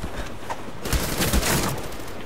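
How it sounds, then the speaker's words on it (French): Burst of AK-47 gunfire in a video game, a dense spray of rapid shots rising midway through a short stretch and carrying on loudly to the end amid game noise. "je suis obligé de tirer avec mon AK-47"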